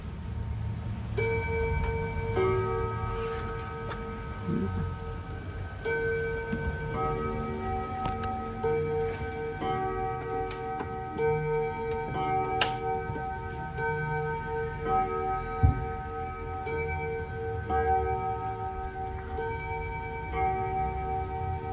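An antique German wall clock in an oak case ticks steadily and evenly while a few faint bell-like tones ring in the background, all close and fairly quiet.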